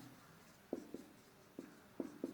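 Chalk or marker writing on a board during a physics lesson on transistor characteristics, five short scratchy strokes in uneven rhythm, close and fairly quiet with no talk.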